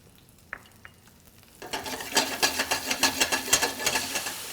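Pearl onions and cremini mushrooms hit a pan for a miso-glazed salmon stir-fry, a quiet start giving way after a couple of clicks to loud, steady sizzling with rhythmic bursts of stirring, close and with no talking.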